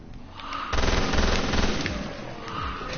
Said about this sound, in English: Shot the ground.